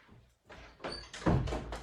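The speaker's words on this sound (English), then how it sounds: "I'm just going to have to shut the door." Indoor door being pushed shut, a shuffle and creak building into a solid thud with a short rattle after, fairly close.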